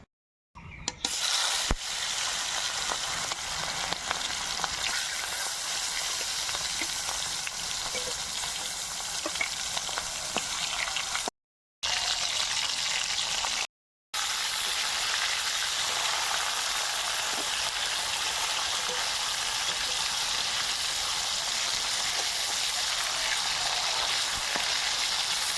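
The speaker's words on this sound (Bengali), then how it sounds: "এবার মাছ ভেজে নেব।" Fish sizzles steadily in hot mustard oil in a wok, a loud, continuous crackling fry with brief gaps, no voices.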